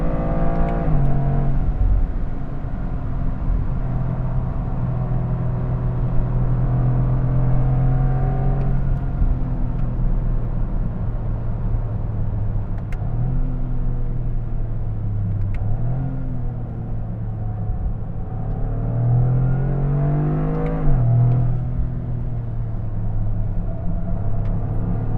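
A Toyota GR Corolla's engine hums and drones steadily from inside the cabin while driving, its pitch rising under acceleration and dropping with each gear shift, loud and continuous with no talk.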